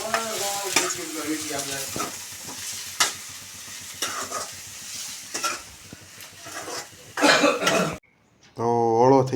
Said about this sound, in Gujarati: આ ઘઉંના પાપડ તળે છે બાપુજી